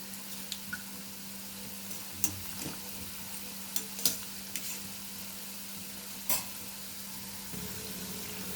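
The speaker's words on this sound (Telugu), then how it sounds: "2 మినిట్స్ తర్వాత కొంచెం ఫ్రై చేస్తే సరిపోతుంది మన గరిటె పెట్టి." Onion pakodi fry quietly in hot oil while a ladle turns them, a low steady sizzle broken by scattered sharp taps and clinks of the ladle against the pan.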